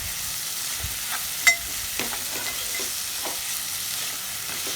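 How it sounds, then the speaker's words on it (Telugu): Boiled chammakaya pieces fry in oil with onions, giving a steady close sizzle with a few sharp stirring clicks and scrapes, and no voices. "ఇవి కూడా ఆయిల్లో ఫ్రై అవ్వాలండి చక్కగా ముక్కలు."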